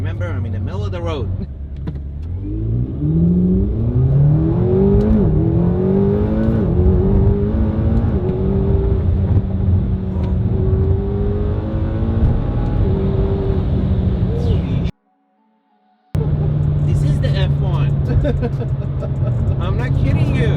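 A car accelerates through corners, engine pitch rising and falling in repeated sweeping revs, close and loud, with a brief cut to silence near the end.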